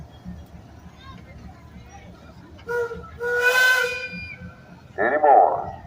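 Loud, steady steam whistle blast from an 18-ton steam engine built in 1911, blowing during a steam engine show parade, with hissing steam around it and someone talking nearby.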